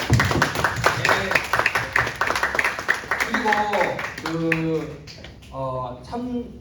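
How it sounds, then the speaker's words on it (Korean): A church youth-group congregation claps during a worship service, a dense burst of hands at first that thins out while a voice carries on over it and then dominates. "높이 계신 주님께 영광의 박수 한번 드립시다"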